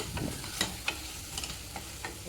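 Onions fry to golden brown in a pan as a prawn fry is prepared. A soft, steady sizzle is punctuated by several brief scraping clicks as the onions are stirred.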